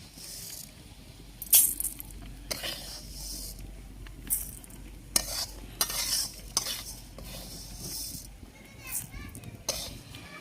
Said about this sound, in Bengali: এবারে মুগ ডালটা আমি ঢেলে নেব